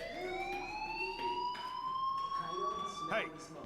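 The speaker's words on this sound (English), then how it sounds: "Hey, do you hear that fire alarm?" A video game fire alarm rings with a steady electronic tone, slowly rising in pitch and sustained throughout. A voice speaks over it, with a brief scuffing noise near the end.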